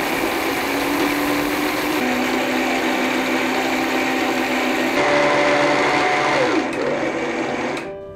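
Electric mixer grinder blends milagai podi, a South Indian spice powder, with a loud, steady motor whine and churning that shifts pitch before winding down near the end.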